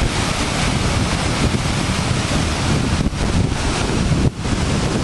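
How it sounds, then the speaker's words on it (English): A steady, rushing wash of flowing water fills the clip, with wind buffeting the microphone on top. "Soft running water there."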